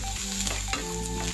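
Soya chunks fry in a spoonful of oil for a soya roast, giving a steady close sizzle with stirring scrapes throughout the short stretch and no voices.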